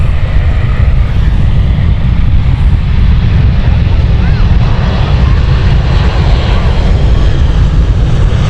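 EasyJet airliner at Amsterdam Schiphol Airport, a loud continuous jet engine roar with heavy low rumble and wind buffeting, steady throughout.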